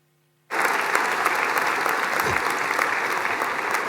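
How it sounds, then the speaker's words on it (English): College graduates at a winter graduation ceremony in Glasgow burst into a loud round of applause for their families after a moment of silence. The clapping is dense and steady and fills a large hall. "give them a big round of applause"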